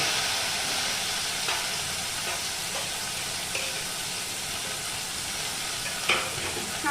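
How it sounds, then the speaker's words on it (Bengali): Kharkol leaf paste sizzles steadily in hot oil, a continuous broadband fry hiss with a few soft stirring scrapes and clicks, moderately close and without talk. "এটা দিয়ে দেব তেলের মধ্যে আমি এটা ছেড়ে দিচ্ছি ছেড়ে এবার সামান্য নাড়বো"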